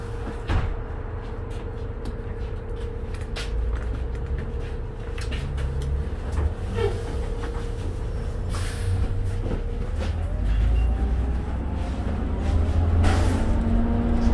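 Interior ride aboard a 2009 New Flyer D60LFR articulated city bus, number 6049, on the Max Purple route to City Centre: a steady low engine drone and road rumble with rattles and occasional clunks, rising slightly toward the end.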